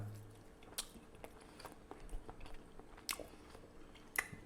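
Someone bites into and chews a carrot vanilla pancake fritter, with soft, close, quiet chewing and a few crisp clicks spread over several seconds.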